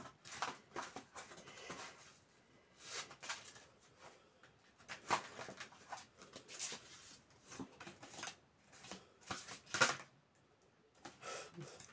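Oracle cards being shuffled by hand in repeated bursts of papery riffling and patting, fairly quiet and close, with short pauses between bouts and no talking.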